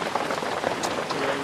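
Steady rain falling outdoors in a rural province setting, a dense even patter with scattered louder drops, fairly close, with no voices over it.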